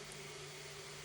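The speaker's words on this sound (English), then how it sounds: "my 3D printer's going for Sunday's sculpt video." A 3D printer runs in the background as a steady, faint mechanical hum and hiss, with no distinct movements or voices standing out.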